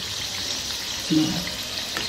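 Matar karanji pastries deep-frying in oil over a low gas flame, a steady soft hiss of bubbling oil throughout with one brief louder crackle near the middle.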